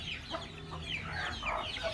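Desi country hens cluck steadily while feeding, close by, several birds overlapping in short, uneven bursts over a constant farmyard background.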